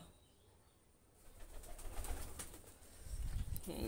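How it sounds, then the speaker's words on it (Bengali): Pigeons coo softly amid a quiet background, with faint rustling and a rising murmur of birds nearby. "এই হলো আমার সব ব্রিডিং কবুতর"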